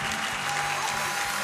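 A church congregation at a healing service claps, a brief, dense and steady burst of applause at even volume with a faint tonal hum beneath it.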